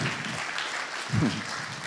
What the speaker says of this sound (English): Big cheer from the Dash guys over there.